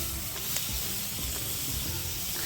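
Hincha greens with green chillies frying in a pan, a steady soft sizzle and hiss with faint crackles, close and unbroken throughout.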